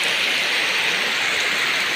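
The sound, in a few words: rain falling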